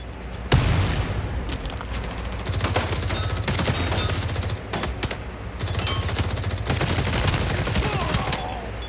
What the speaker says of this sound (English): Alright, and I'm shooting the wall.